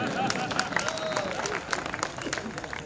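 Audience applause at a religious discourse, a dense steady wash of clapping from a crowd, moderately loud and continuous throughout.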